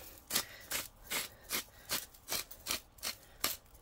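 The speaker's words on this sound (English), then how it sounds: "let's go ahead and just grind some salt and pepper on them" Costco grinder shakers milling salt and pepper onto boneless top sirloin steaks: about nine rhythmic gritty grinding twists in quick, even succession, close and fairly quiet, with no talk.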